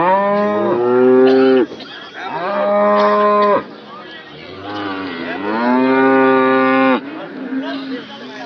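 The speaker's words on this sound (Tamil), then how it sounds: "நம்ம மாடு" Cattle mooing repeatedly at a livestock market in Anthiyur, with long, loud, drawn-out calls in several overlapping bouts close by and market noise underneath.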